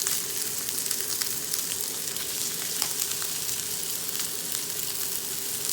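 Salisbury steak patties fry in hot oil in a pan, giving a steady, close sizzle with dense crackling that holds even for the whole stretch, no voices over it.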